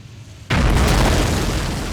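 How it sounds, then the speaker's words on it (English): Blasting at the Lost Josephine gold mine erupts in a single sudden, loud boom after quiet, followed by a heavy rumbling roar that slowly decays. "Since the explosion and unfortunate cave-in of the Lost Josephine mine"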